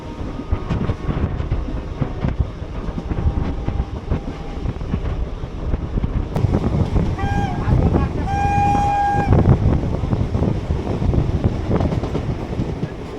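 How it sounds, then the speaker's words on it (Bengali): Passenger train running on a rural route out of Sealdah toward Shantipur, a continuous rattling rumble with wind buffeting the microphone and a brief tonal whistle or horn partway through. "এই রুটের ট্রেন জার্নিটা বেশ সুন্দর"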